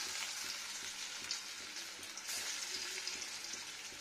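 Ajwain leaf pakoras coated in gram flour batter with grated potato fry in hot oil, giving a steady, quiet sizzle with small crackling pops throughout.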